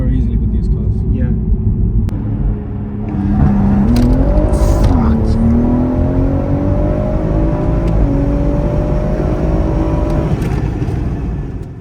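A 480bhp BMW M140i drives hard, sliding sideways before putting the power down. The engine drones loud and close, its pitch climbing steadily over a heavy rumble as it accelerates, then holding a strained, rising whine.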